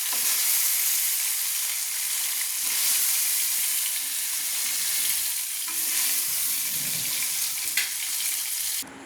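Boneless chicken pieces fry in hot oil for Kolkata-style chowmein, a loud, constant close sizzle with light stirring, running evenly until a sudden cut at the end.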